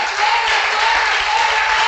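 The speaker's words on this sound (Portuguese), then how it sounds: "Vamos aplaudir o nome do Senhor" A church congregation applauding during a worship service, a dense, even wash of many hands clapping together, steady and fairly loud throughout.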